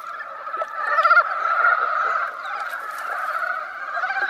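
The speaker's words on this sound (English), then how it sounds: "it's easy to catch an otherwise engaged frog" A frog calls insistently during the mating season in an Asian rainforest, its close, steady croaking run of throaty pulses carrying on for several seconds with no voices.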